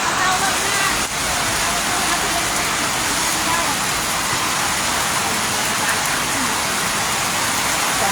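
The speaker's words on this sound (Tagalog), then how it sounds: "Kasi tuloy-tuloy pa rin yung ulan." Heavy typhoon rain pours down steadily during a storm in Antipolo City, a continuous hissing roar that fills the whole stretch at an even, loud level with one brief dip near the start.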